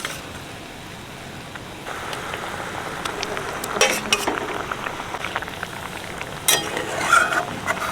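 Fried paneer added to a sizzling pan, a soft steady frying hiss that swells as the pieces go in, with a few light clinks and stirring scrapes, fairly quiet and close.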